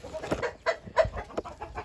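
Chickens cluck in a backyard coop, a few short, close calls in quick succession, with no voices over them.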